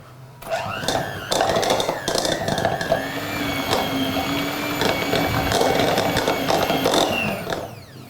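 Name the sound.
electric mixer creaming cream cheese and butter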